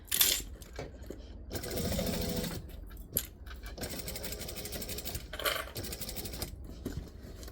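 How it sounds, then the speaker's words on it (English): A sewing machine runs in steady bursts while stitching around a bag, its fast mechanical whirr stopping and starting, with a few sharp clicks and knocks between runs; close and clear, no talking. "because we're going to stitch all the way around"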